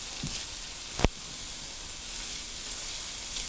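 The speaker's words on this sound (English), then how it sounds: "So I put 3 cloves of garlic in there." Three garlic cloves sauté in butter in a pan, giving a steady close sizzling hiss that lasts throughout. A single sharp clink of a utensil sounds about a third of the way in.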